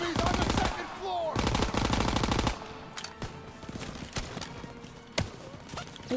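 Rapid bursts of machine-gun fire in Call of Duty WWII, loud and dense for the first couple of seconds, then scattered single shots and distant crackling gunfire follow.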